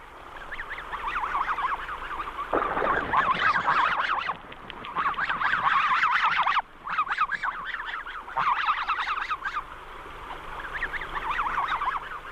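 A mixed flock of snow geese and blue geese honks loudly and repeatedly, bursts of overlapping calls broken by short pauses, close by over a lake with no voices.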